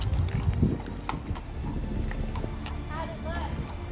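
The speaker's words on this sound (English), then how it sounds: "Vou mostrar aqui um pouco os cavalos aqui." Horses at Kualoa Ranch in Hawaii being readied for a horseback tour, with hoof clip-clop and shuffling under steady outdoor wind noise while a person talks nearby.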